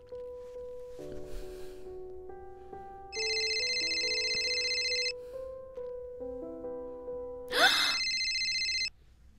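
A phone ringtone plays a simple electronic melody, with two bursts of bright, buzzy ringing tones, clear and nearby in an otherwise quiet room.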